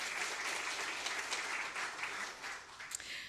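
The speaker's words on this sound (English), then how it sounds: "Yes, you can clap again for Lucy." Steady audience applause at an annual scientific meeting, a dense wash of many hands clapping at a moderate distance that holds evenly for a few seconds without any voices.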